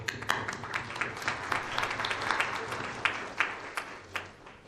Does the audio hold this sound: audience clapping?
yes